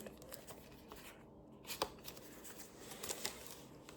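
A pack of Japanese trading cards is torn open and the cards are handled, giving a close, crisp papery rustle and flicking with a few sharper snaps.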